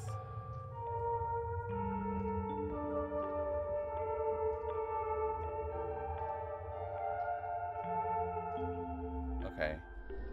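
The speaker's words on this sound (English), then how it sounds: "According to the score, it should sound like this." Piano melody from the horror video game Fatal Frame: Mask of the Lunar Eclipse, a slow sequence of single sustained notes stepping up and down over a low held bass, played softly and evenly for about ten seconds.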